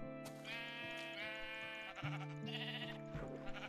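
Sheep bleating in a video game, a few wavering bleats repeating over steady background game music, clear and fairly close.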